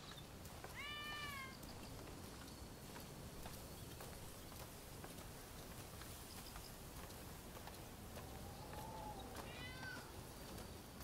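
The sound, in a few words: cat meowing in video game Rise of the Ronin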